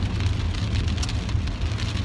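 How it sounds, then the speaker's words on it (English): Steady rain drums on a car during a road trip through Oregon, a dense, even patter with a low rumble underneath and no voices. "And it's raining."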